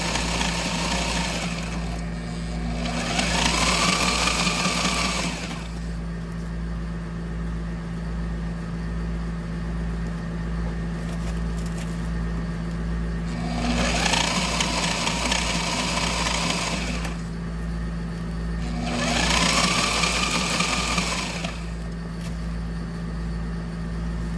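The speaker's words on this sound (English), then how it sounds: "I'm running the presser foot very close to the edge, maybe 1/4 of an inch, if not less, away from the edge." A sewing machine stitches close to the fabric edge, running in three sustained bursts of a few seconds each over a steady background hum, near and moderately loud.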